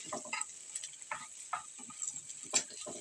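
Spoon stirring and mixing spices into halim cooked with tripe in a pot, with soft scraping strokes and a faint sizzle throughout, fairly quiet and close.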